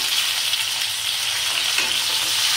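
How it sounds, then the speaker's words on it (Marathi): Stuffed brinjals and potato slices sizzle in hot oil, a loud, dense, continuous hiss close to the pan with no pauses and no voices. "तर आता जी आपण वांगी भरलेली आहे ती आपण तेलामध्ये सोडूया।"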